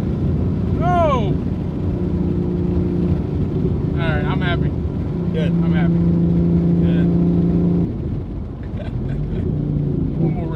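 A twin-turbo 3.7L V6 Ford Mustang S550 on a dyno holds a loud, steady droning engine note that shifts pitch as it is revved. Short whistling chirps rise over it and voices are heard nearby.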